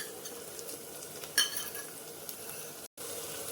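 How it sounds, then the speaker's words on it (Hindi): Chopped onion and ginger-garlic paste sizzle steadily in a hot pan while a utensil stirs them, with one brief clink of metal against the pan partway through. The cooking sounds run continuous and close throughout. "सभी चीज़ों को अच्छे से चला करके भून लेंगे।"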